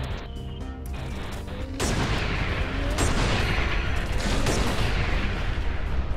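Spaceship weapons fire in the Everspace 2 prototype: a sparse hum with a few sharp shots gives way to a sudden, sustained barrage of heavy, rapid blasts and booming impacts, loud and close.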